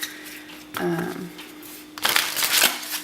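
Two short bursts of oracle cards being shuffled close up, a riffling flutter then a brighter rapid patter, with a brief voice-like sound between them.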